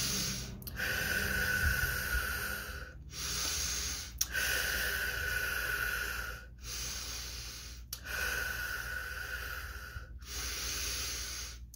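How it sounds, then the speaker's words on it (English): Deep, slow breaths are drawn in and let out, a close, hissing air sound repeated about five times with short silent pauses between them. "Breathe in."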